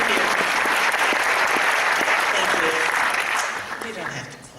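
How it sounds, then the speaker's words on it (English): An audience at a poetry reading in a theater breaks into sustained applause, a thick steady wash of clapping that fades toward the end, with faint voices underneath. "You don't have to clap."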